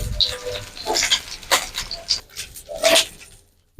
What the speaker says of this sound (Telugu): ఇప్పుడు మూడు టమాటాలు పీసులు తీసుకున్నా ఇలా నేను ఇవి కానీ ఫ్రై చేసుకోవాలి